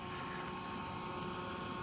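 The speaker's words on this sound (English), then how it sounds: "Revving it up, it just freaking screams." A Chevy Nova engine, refitted with an electric cooling fan and electric water pump, revs hard with a steady broadband roar, close and loud throughout and alone without any talk.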